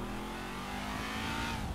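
A car accelerates in the video game GTA 5, its engine a steady, loud drone that rises in pitch over a short stretch, with no talk over it.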